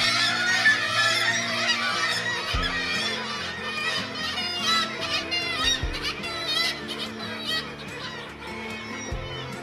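A large flock of gulls in a Lofoten fishing village makes a loud, continuous chorus of shrill cries and squawks that fills the air, with no clear voices over it.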